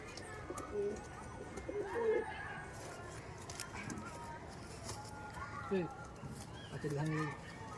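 A pair of teddy pigeons, a male and a female, coo softly at several points over low background noise and faint talking nearby.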